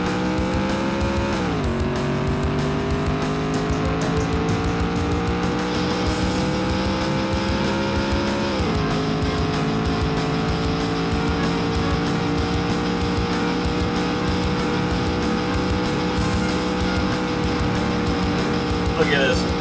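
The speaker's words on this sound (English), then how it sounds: "This car's maxing out at 180 mile an hour." A racing car in an arcade driving game holds a loud, sustained engine whine, with two sharp dips as it shifts and climbs again, and tire squeal at moments. A person talks over it.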